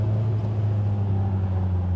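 A Triumph Spitfire engine, built from parts cars, runs with a steady low drone and deep hum from inside the moving car, loud and continuous with no talk.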